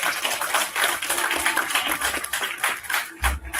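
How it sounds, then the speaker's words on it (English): Audience applause at a conference award ceremony, a dense patter of claps throughout a few seconds, fairly close and steady with a low thump near the end. "Please give a big round of applause."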